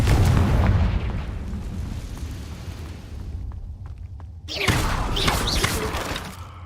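A Confringo fire-blast spell explodes in the video game Hogwarts Legacy: a heavy booming burst rolls out and fades into rumble, then a second crackling, shattering blast follows near the end.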